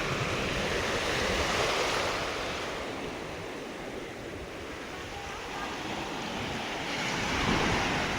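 Sea waves wash onto Chirala beach on the Bay of Bengal, a steady close roar of surf with wind buffeting, swelling and easing without any speech.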